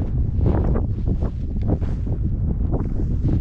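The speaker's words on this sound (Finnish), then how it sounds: "Aivan hirviä tuuli täällä on." Strong wind on a Saariselkä fell buffets the microphone in loud, gusting roars that rise and fall continuously, with no voices.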